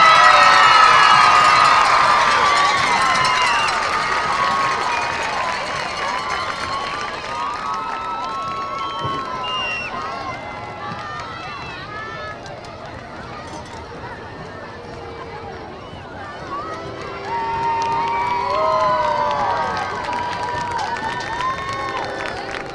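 A high school homecoming crowd at a New Waverly football game applauds and cheers for the newly crowned king and queen. The cheering rises and falls, with shouts and whistles above it, and an announcer talks over the noise.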